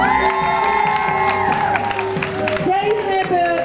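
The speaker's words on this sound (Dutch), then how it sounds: "En even een groot applaus voor Jane en Fabri." An audience applauds at a Miss Asia 2015 pageant in Nieuw-Vennep, a dense crackle of clapping with cheers and whoops, heard beneath loud music and an announcer's voice.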